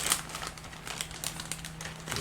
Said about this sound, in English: let's open the big plastic bag